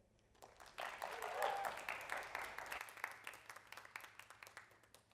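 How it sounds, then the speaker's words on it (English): Applause from an audience at a senior showcase, rising quickly into a moderate wash of clapping that peaks early then thins into scattered claps, with some voices cheering or talking underneath. "Another round of applause."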